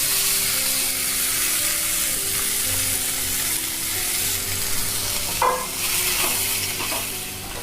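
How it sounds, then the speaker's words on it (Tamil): Curry leaves, asafoetida and cluster beans frying in oil, a dense continuous sizzle and crackle with stirring, a brief louder spatter burst near the end. "எல்லாத்தையுமே எண்ணெயில் நல்லா பொரிச்சுக்கோங்க"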